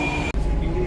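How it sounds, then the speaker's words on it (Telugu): Inside a moving metro train, a steady, loud rumble of the carriage fills the moment, broken by one very brief dip in level before the running noise returns unchanged. "మెట్రో అయితే ఎక్కేసాం ఫ్రెండ్స్"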